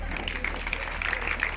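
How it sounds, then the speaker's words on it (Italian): Brief burst of crowd clapping at a live comedy show in Riola Sardo, Sardinia, dense and fairly close, with a few sharper claps standing out and no speech over it. "stava partendo un applauso da solo."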